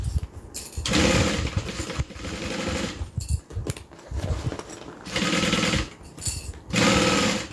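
A sewing machine stitches in bursts of rapid mechanical whirring, starting and stopping several times with short pauses between runs, close and loud.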